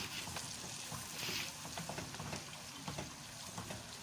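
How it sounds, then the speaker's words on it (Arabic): Onions frying in hot oil for Egyptian koshari, a dense steady crackling sizzle with small popping bursts, close and fairly quiet, no talking. "ادي الزيت اهوت وادي البصل"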